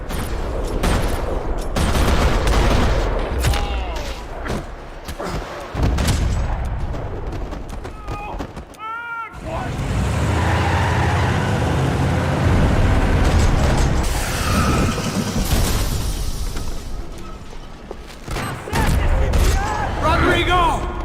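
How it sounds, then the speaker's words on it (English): Gunfire rattles across a parking lot in Max Payne 3: loud, dense bursts of shots and impacts come in clusters, with a brief lull midway, over a rumbling game soundscape and possible background voices. "Another parking lot rattling with gunfire."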